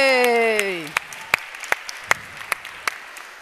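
A high voice whoops and cheers, then a handful of separate handclaps ring out at a women-in-tech gathering, greeting a DJ with sparse, uneven clapping rather than a full ovation.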